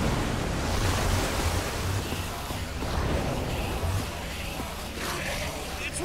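Water rushing and churning from a mechanism in the Minecraft Story Mode game, a continuous broad roaring wash that swells and eases slightly, loud and close, with no voices over it.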